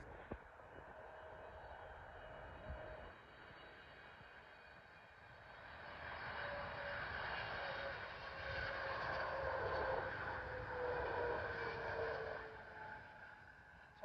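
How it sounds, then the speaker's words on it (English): An American Airlines Boeing 777 from Dallas lands at London Heathrow, a steady distant jet engine roar that swells louder through the middle and then eases off, with no voices. "As an American Airlines Boeing 777 from Dallas,"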